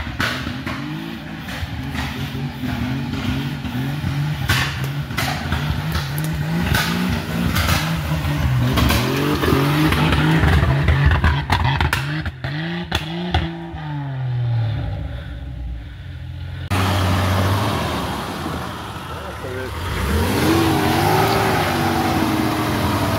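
A Jeep Wrangler engine revs hard and repeatedly as it climbs a steep slope, loud and close with rising and falling surges before dropping to a lower idle-like drone.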